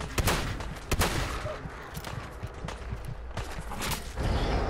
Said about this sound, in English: That shotgun does some really good damage up close.